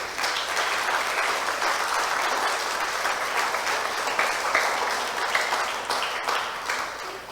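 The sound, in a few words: audience applauding in church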